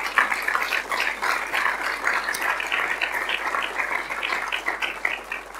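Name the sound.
audience applause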